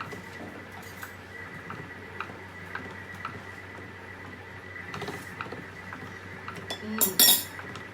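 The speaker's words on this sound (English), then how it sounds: "give everything a good stir before we continue the 10 minutes" A spoon clinks and scrapes against a pot of jap chay in irregular light taps over a faint hum, ending in a louder rattling burst.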